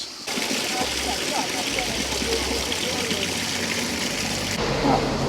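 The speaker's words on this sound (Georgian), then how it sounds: "აი აქ მოდის წყარო, შეგიძლიათ ავსოთ" A mountain spring on Gomi mountain in Georgia gushes steadily as bottles are filled. The loud, continuous rush of water fills the whole stretch, and a voice is faintly heard beneath it.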